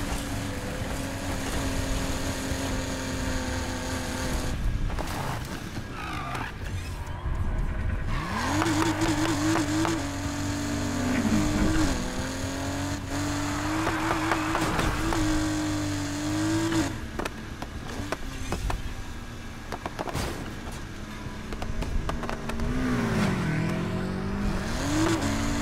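A BMW M3 E30 engine in the Need for Speed Heat racing game roars and revs through gear changes, with squealing tires and whooshing passes, loud and continuous.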